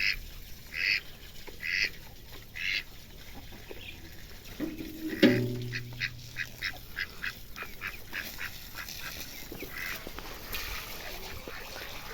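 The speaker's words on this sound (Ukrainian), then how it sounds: "повипускала білих качок, так он пасуться" White ducks grazing outdoors in a rural yard, quacking in short repeated bursts at moderate distance, with a louder call midway and faint water and background noise throughout.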